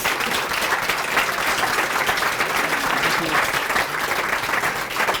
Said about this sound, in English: A big round of applause for all of the wonderful organizations.